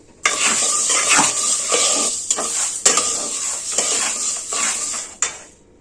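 Pearl millet dry-roasts in a pan, with a close, continuous rattling hiss of grains and the repeated scrape and clink of a stirring spoon against the metal, slowly tapering off at the end.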